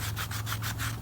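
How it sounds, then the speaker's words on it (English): A hand rubs a test spot on a 1970 Dodge D200 truck rim, a close, quick back-and-forth scrubbing with about six even strokes over a low steady hum. "I figured I'd test rub a spot and see what I think about it."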